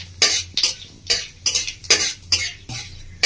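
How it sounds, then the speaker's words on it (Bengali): A spatula scrapes and stirs a panchphoron tempering of five-spice, a bay leaf and a dried red chilli frying in oil for raw mango chutney: about eight sharp, rhythmic strokes against the pan, close and loud. "ভালো করে ভেজে নেবো ফোড়নটা।"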